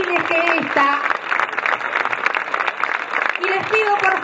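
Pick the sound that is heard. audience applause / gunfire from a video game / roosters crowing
audience applause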